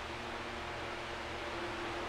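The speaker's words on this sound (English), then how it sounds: "Sorry about the fan noise." Steady broadband whoosh of a fan running close by, a constant airy hiss with a faint low hum underneath, loud and unchanging with no talking over it.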